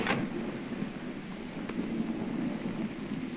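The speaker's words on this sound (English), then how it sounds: "Please go away, lightning." Steady rain with a low rolling thunder backdrop in the video game Gone Home, a constant soft wash of rainfall at moderate level with no voices.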